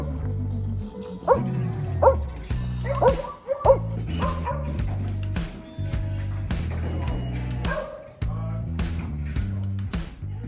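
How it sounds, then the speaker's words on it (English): Sheep dogs bark repeatedly in sharp, irregular bursts while lambs are moved into farm yards, the barks fairly close amid clattering and low background noise. "the dogs, John has his sheep dogs here"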